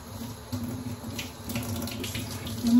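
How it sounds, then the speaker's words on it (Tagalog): Tap water runs steadily into a sink while dishes are washed by hand, a close, continuous splashing hiss with small shifts in flow and no voices. "Maghuhugas ako ngayon ng mga plato ng mga kinainan ko."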